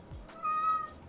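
A house cat shut behind a closed door lets out a single clear, drawn-out meow, close and distinct over quiet room tone with no talking.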